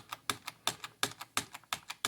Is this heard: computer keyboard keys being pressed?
yes